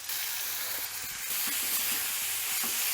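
Vegetables and ginger-garlic paste sizzle steadily in hot tempering oil, a close, continuous crackling hiss with small pops and faint stirring, no voices.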